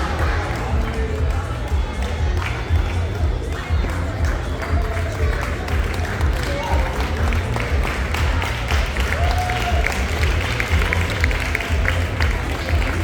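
A crowd at a village festival claps for a prize winner, steady applause mixed with crowd noise and low thumping, with voices talking throughout.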